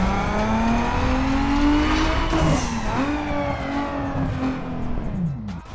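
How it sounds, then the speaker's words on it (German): A Toyota Supra fitted with a stage 2 engine in the racing game Need for Speed Underground 2 revs and accelerates with a rising, buzzy engine note, shifting gears and squealing tires briefly before the sound fades out toward the end. "Wenn man beim Supra zum Beispiel den Stufe 2 Motor benutzt, anstatt den Stufe 3, dann hat der einen ganz anderen Sound."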